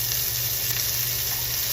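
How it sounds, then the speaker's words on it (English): Butter sizzles loudly and steadily in a hot pan while a Christmas dinner is being cooked, a continuous close crackling hiss with no voices. "In goes that butter."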